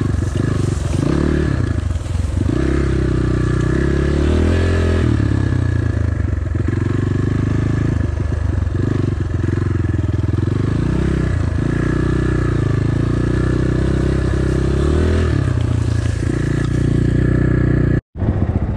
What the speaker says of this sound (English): The GPX FSE 250 is actually pretty growly and loud